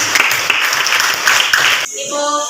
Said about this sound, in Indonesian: Ya, kita tepuk tangan untuk